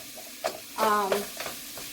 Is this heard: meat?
yes